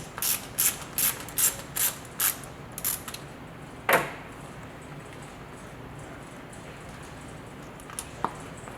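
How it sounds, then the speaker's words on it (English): A 6mm hex key loosening a screw and nut on the top track roller of a Pentruder wall saw, heard as a rhythmic series of about eight metallic ratcheting clicks, then a sharper clank and a faint later tick. "I'm going to remove the top roller by using a 6mm hex and removing the screw and the nut off the top"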